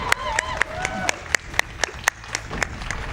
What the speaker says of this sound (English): Get some applause for Laura.